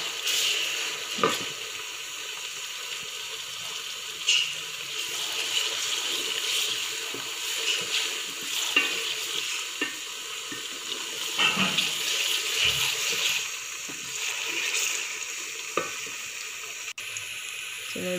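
Onion, garlic and ginger sizzle steadily in a pan for a simple kala chana recipe, with occasional scrapes and stirring knocks over a continuous broadband frying hiss, no talking.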